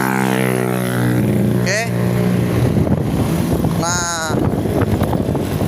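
Honda Beat eSP scooter engine idles steadily after restarting, a close continuous buzzing hum with wind noise on the microphone while someone speaks briefly over it.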